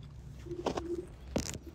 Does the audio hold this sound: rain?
no